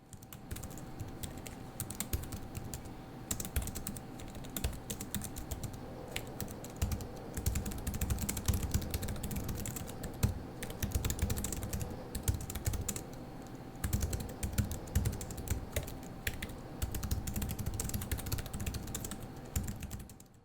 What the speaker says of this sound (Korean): 키보드는 전형적인 펜타그래프 방식이며 크로마 RGB도 지원합니다